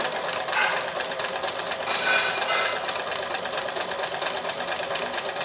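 A sewing machine stitching steadily on its own, a rapid even mechanical whirring and clatter that swells slightly in places, close and continuous with no talking.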